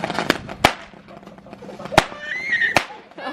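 Consumer fireworks go off nearby in a few sharp, loud cracks spaced about a second apart, with a horse neighing and a person talking between the bangs.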